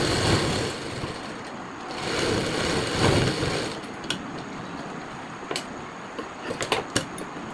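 A sewing machine stitches salwar fabric in a continuous whirring run for several seconds, then stops and gives way to a few sharp clicks and taps from handling the fabric; there is no talking.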